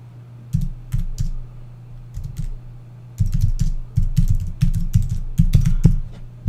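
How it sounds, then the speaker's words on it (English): Rapid typing on a Sandberg Bluetooth touchpad keyboard in uneven bursts of clicky keystrokes, with short pauses between flurries, close and fairly loud. "I'm actually just going to do a little bit of typing."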